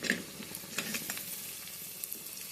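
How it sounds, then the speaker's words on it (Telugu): Turmeric stirred into ginger-garlic paste frying in a pan for an egg curry, a soft sizzle with light scraping stirs, fairly close and quiet, with no talking. "పసుపు వేసి కలపండి"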